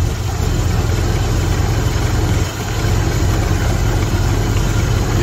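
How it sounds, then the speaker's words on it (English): A Ford Model T engine lugs under load while the car is driven. It makes a steady, loud, low drone with constant vibration and one brief dip near the middle, and no one speaks. "Model T superior pulling power."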